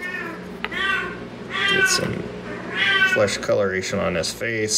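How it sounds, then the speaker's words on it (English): A deaf cat meows repeatedly in the background, its drawn-out, wavering cries rising over and alternating with a person talking nearby in an indoor room. "That's my cat, if you can hear that in the background."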